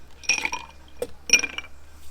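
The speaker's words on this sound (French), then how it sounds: "Des glaçons dans le verre." Ice cubes drop into a cocktail glass in two separate bursts of bright clinking, close and clear against a quiet background, with a single soft knock between them.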